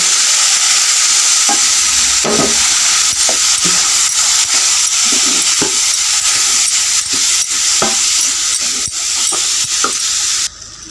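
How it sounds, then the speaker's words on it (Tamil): Milk poured into roasted semolina in a hot pan for rava laddu gives a loud, steady sizzle, with repeated scraping stirs running throughout. "இப்போ ஒரு அரை டம்ளர் பால் இதில் சேர்த்துக்கலாம்"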